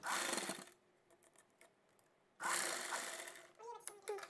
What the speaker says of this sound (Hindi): अब यहाँ से हम सिलाई को उतार देंगे